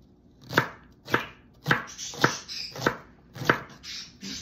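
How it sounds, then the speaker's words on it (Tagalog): Celery is chopped with a knife on a cutting board, about seven sharp, evenly spaced thuds in a steady rhythm, near and clear with no talking. "chop-chopin lang natin ito ang celery"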